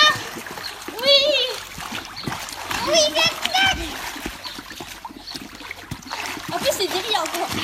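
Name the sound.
splashing water in a swimming pool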